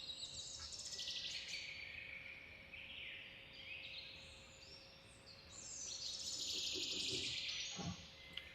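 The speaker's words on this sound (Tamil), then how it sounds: "இதோட விசில் சத்தம் எப்பயுமே நமக்கு கேட்கும்." A small bird whistles and chirps in the Nilgiri foothills near Onappalayam, its high calls rising and falling in several phrases at moderate distance over a faint steady hum and soft outdoor background, with no voices.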